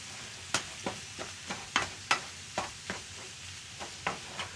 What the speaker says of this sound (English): So brown up that meat a little bit